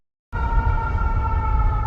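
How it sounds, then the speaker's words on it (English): A steady siren tone starts abruptly and holds constant, loud and droning with a rumbling low background. "And I'm hearing sirens."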